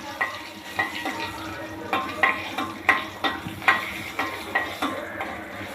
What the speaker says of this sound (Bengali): মরিচটা ভালোভাবে ভাজা হলে শাকগুলো দিয়ে দিব।